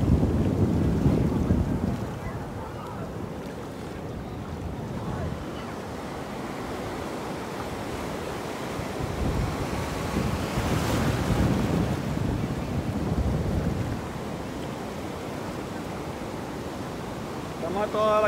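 Ocean waves breaking on the beach at Altata, Sinaloa, a continuous loud roar of surf with swells rising and falling, mixed with heavy wind buffeting the microphone and faint talk in the background.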